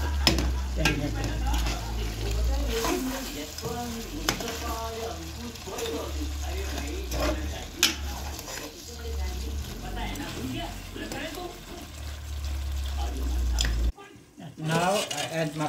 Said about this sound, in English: Now I add my tomato. I let it cook.